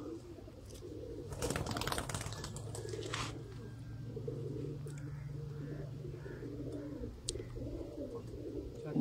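Old Sialkoti pigeons cooing: low, rolling coos repeat throughout at moderate distance, with a brief flutter of movement early on against a quiet background.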